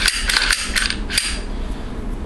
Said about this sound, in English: Cycle it a few times